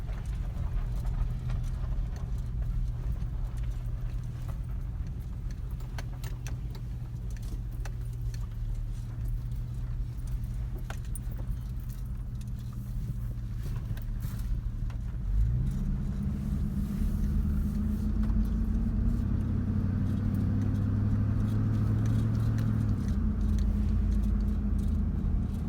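A Chevy Tahoe V8 fitted with a new exhaust and intake idles with a steady low rumble. Partway through, the engine note rises and grows deeper and louder for several seconds before settling.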